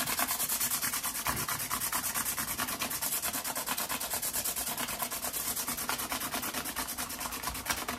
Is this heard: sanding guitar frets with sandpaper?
yes